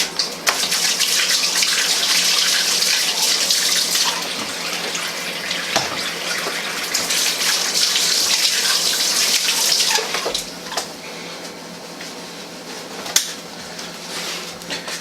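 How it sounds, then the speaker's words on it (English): Tap water running steadily into a sink during handwashing in a kitchen, a loud close gushing stream that eases slightly near the end, with a brief clatter. "Let me wash the hands again real quick."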